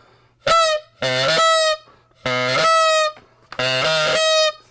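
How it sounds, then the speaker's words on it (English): Four loud, nasal honks from a honker goose call, each held for about a second with short pauses between them, close and alone. "This is the honker goose call."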